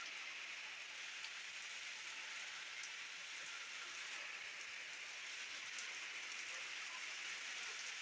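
Steady, heavy monsoon rain pours down continuously in a village, a dense hiss of drops hitting surfaces with no pauses or voices.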